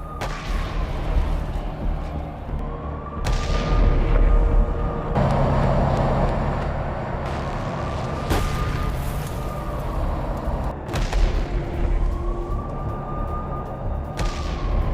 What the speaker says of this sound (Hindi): यूक्रेन ने हमले में रूस के कई टैंक उड़ा दिए हैं।